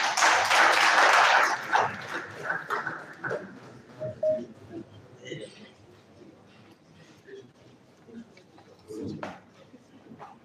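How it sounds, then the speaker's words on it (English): Conference attendees at an electrical engineering event give a professor a burst of applause that fades within about two seconds, followed by someone speaking over quiet room noise. "Please, a round of applause for him."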